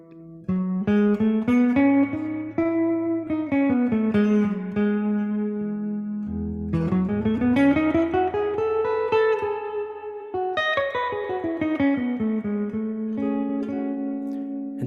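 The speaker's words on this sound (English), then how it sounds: "this is our major scale" A major scale played as a musical example, rising and falling stepwise in clear sustained tones with a low accompanying note, moving at a steady even pace with no talking.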